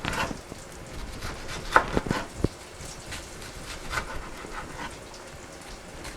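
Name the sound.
knife chopping an onion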